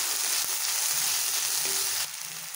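Peanuts tossed into a pan of frying stale-chapati khurma give a steady, close hiss and sizzle for a couple of seconds, easing slightly at the end.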